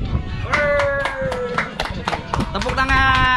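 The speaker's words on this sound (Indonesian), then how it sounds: "Tepuk tangan." A small group clapping hands at a motorcycle riding club's anniversary gathering, with close, uneven claps over a few seconds and voices and cheering mixed in.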